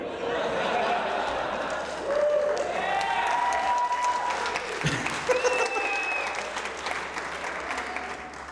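A comedy festival audience bursts into sustained applause and cheering, with scattered whoops rising over the clapping before it gradually tapers.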